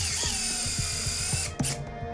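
A surgical power drill drives screws through a bone plate during a cat's leg fracture repair, giving a steady mechanical whir with regular ratcheting clicks about every quarter second, close and continuous, then a brief louder burst near the end.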